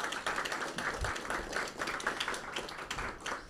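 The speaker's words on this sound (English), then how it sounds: "let's give a big round of applause to welcome Luis to the People's Forum" Audience applause welcoming a speaker at a forum conversation: a fairly faint, steady patter of many hands clapping throughout, with occasional low thumps.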